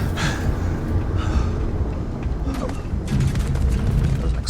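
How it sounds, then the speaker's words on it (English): A loud boom bursts out during a Starfield firefight, with broad rumbling noise and scattered crackles and thuds continuing around it over several seconds. "Explosion."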